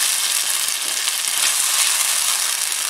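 Canned petite diced tomatoes with their juices are stirred into a pot of chili, producing a steady close hiss and bubbling sizzle with a few soft spoon taps, no talking.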